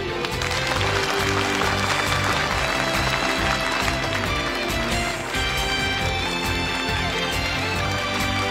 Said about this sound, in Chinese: 请让我们以最热烈的掌声为她这次精彩的表现鼓掌